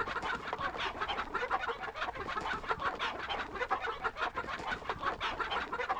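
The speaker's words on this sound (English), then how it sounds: "il y a quand même 60 poulets" Chickens cluck continuously in a coop in the video game Breath of Fire IV, a dense flock of about sixty birds with overlapping calls at steady, moderate loudness.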